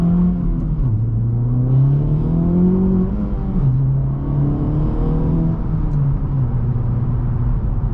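A 2024 Acura Integra Type S with a 320 hp engine, heard from inside while driving, its engine droning loud and steady with pitch rising and dipping through gear changes and revs.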